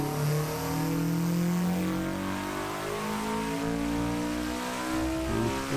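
Honda EJ9 Civic engine revving, a loud close rasp that climbs and holds in repeated pulls, steady and unbroken, with no voices.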